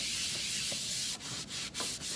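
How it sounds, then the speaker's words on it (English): A scrubber pad rubs over set plaster lining a plastic-bin damp box for pottery, making a close, steady scratchy sanding sound with a few short breaks between strokes. "I'm just going to take the scrubber pad"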